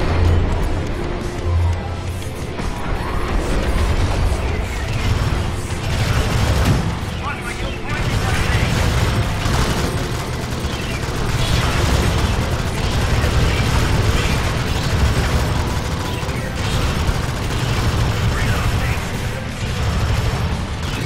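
An automated sentry turret in Alien Swarm fires continuously, a dense, loud barrage of rapid shots and bursts mixed with game effects, with players talking over it.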